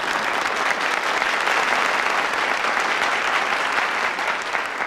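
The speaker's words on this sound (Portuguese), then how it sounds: "Uma salva de palmas para ele, por favor." An audience at a small-town civic event, with the mayor present, claps in a dense, even round of applause that holds steady for about five seconds without talking.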